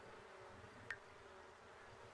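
Bees buzzing angrily in The Sims 4, a faint continuous insect drone with a brief sharper click partway through, no talking.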